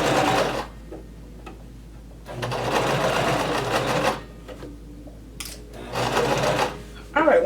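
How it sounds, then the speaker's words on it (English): A sewing machine stitches along a shirt pocket in three bursts of steady whirring separated by pauses, with a short final burst at the end; nearby and fairly loud, with no talking. "I'm going to keep sewing until I get to this pin"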